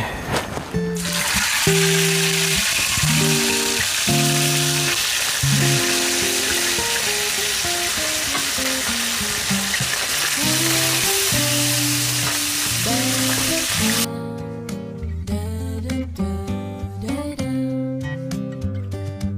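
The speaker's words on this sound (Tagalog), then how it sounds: "Ang sarap ng pagka-prito." Loud, steady sizzling of food frying in hot oil fills the clip, with music playing underneath and the crackle easing near the end.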